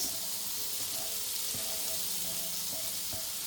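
Chopped onion and three cloves of garlic sizzling in a hot pan, a dense, even hiss held steady and close throughout with faint scattered pops underneath, no talking.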